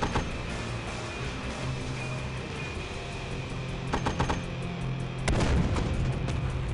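Artillery fire pounds a building in the video game Warfare Reloaded, with heavy booms and rumbling blasts over a dense, constant battle din that swells louder toward the end.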